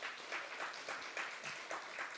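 A church congregation claps steadily, a dense patter of many hands rising and falling in small swells, fairly close and unbroken, with no talking.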